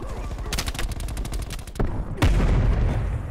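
Gunfire in a Call of Duty Black Ops Cold War match on Nuketown '84: a rattling volley of rapid shots, then two heavy, booming blasts like a shotgun, close and loud.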